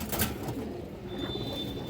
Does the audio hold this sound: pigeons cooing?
yes